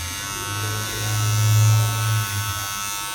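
Electric clipper set to a 1 guard buzzing steadily while trimming facial hair, a close, continuous hum that swells slightly in the middle as it works through the beard.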